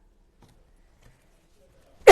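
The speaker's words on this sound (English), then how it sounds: "sorry for coughing in my microphone" A single loud, close cough bursts out after near silence, while someone paints a western-style porch sign with a stencil and brush.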